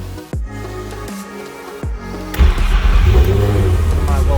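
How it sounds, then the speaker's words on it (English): Nissan VQ V6 engine starting after a rod knock repair: two short cranking bursts, then it catches and settles into a loud, rough running rumble close by. "I just performed surgery on the VQ and it started up"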